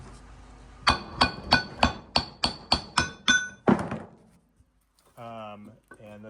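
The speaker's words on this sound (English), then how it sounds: "I held this here like this, and I tapped on the shaft" Hammer tapping on the axle shaft of a New Holland Boomer 41 front axle during a hub reseal, about ten sharp, evenly spaced metallic strikes at close range, followed by a pause and a short clank.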